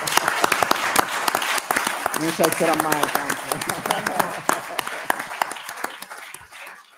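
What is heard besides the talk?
audience applause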